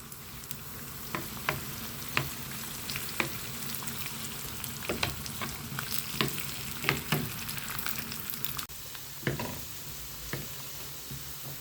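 Cashews and raisins fry in a pan for a Tirupati laddu, a steady close sizzle broken by sharp scrapes and clicks of a spoon stirring them at irregular intervals, with no voices.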